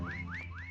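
Someone whistles three rising, swooping notes in quick succession, faint and slightly distant over a low background hum.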